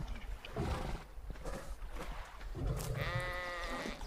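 A sheep in the modded survival game ARK gives a drawn-out, wavering bleat late on, following rougher animal noises and rumble heard throughout.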